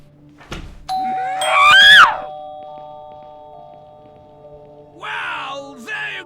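Doorbell chimes ring out twice, a sustained ringing tone near the start followed by a shorter chime burst toward the end, with quiet pauses between, indoors and close.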